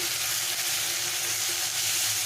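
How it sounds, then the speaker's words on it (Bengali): Ground cumin, coriander and red chili powder frying in a pan as a masala for Bengali-style bhindi do pyaza, producing a dense, steady close sizzle with no talk. "অল্প জল দিয়ে ভালো করে কষে নেবো"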